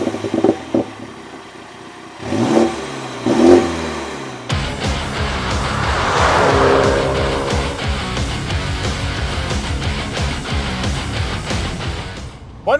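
A 2020 MINI GP engine of 306 horsepower cranks and fires up, then settles into a loud, rumbling idle with a clattery, throaty tone, close by. No one speaks.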